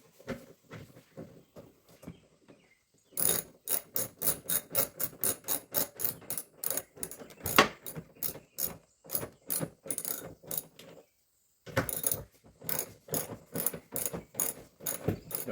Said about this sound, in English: just a regular ratchet.